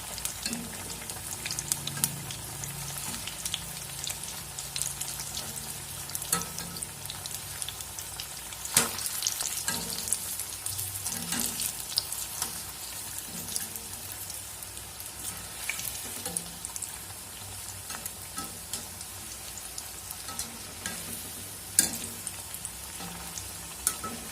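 Tapioca bondas frying in a pan of hot oil, a continuous close sizzle and crackle broken by occasional sharp clinks and scrapes as the fritters are turned over.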